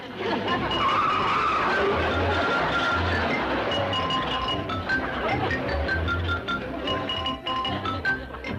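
A car in a classic 1960s sitcom skids with screeching tires, then its engine roars as it speeds away, loud and continuous throughout with no talking.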